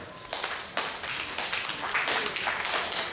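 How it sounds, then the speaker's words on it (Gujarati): Ritual clapping and stamping during a yagna, with several sharp, close claps and taps at irregular intervals over a steady room background. "ભાઈઓએ ડાબો પગ 3 વખત જમીનમાં અસડાવવાનો, તાળી પાડવાની ઉપર અને ક્રોધ કરીને જોવાનું"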